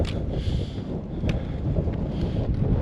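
Steady wind roars and buffets the microphone, a constant low rumble with occasional gusts and no voices.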